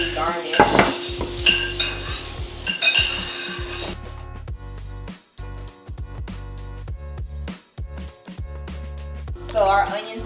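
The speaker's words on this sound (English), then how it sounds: "so we're just putting our vegetables in. Pan is super hot, which is great." Vegetables, onions and garlic sizzle in a very hot pan with stirring and utensil clinks. The hiss is steady and close for several seconds, then other kitchen sounds take over.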